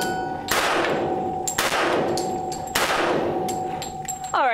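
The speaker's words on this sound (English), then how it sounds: "just shooting it downrange just to make sure that it is functioning" A Hi-Point firearm fires three loud, sharp shots downrange outdoors, each with a ringing metallic echo and decay, evenly spaced about a second apart.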